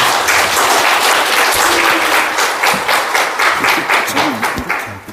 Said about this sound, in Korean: 우리 뜨거운 박수로 환영하겠습니다